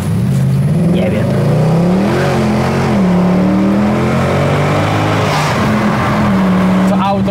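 Car engine revving and rising in pitch as it struggles for traction, a loud sustained drone with repeated climbs and drops, heard close alongside someone talking.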